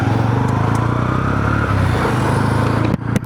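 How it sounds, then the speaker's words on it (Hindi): Honda CB 125 Hornet motorcycle idling with a steady, loud, close engine drone and a faint rhythmic thrum, broken by a brief clatter near the end. "स्टार्ट हो गई है बाइक"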